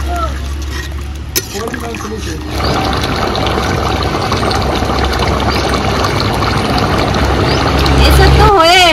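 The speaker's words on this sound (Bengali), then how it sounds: "এঁচোড় ভালো করে কষিয়ে নিয়েছি, এবার পরিমাণ মতো জল দিয়ে দেব।" Water pours into a pan of braised young jackfruit, a loud, steady gush and splash that continues throughout, with a voice talking over it.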